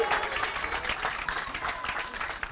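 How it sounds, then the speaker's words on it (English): A crowd claps steadily in a dense, continuous patter, the sound filling the room with no pauses. "Some of them clapping."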